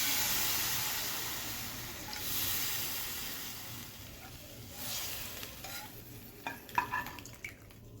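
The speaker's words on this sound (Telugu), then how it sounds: "ఈ పోపును మజ్జిగలో కలుపుకోవాలి." Hot tempering of fried spices and turmeric hisses and sizzles as it is stirred into buttermilk, fading gradually. Near the end come a few light clinks of a spoon against the pot.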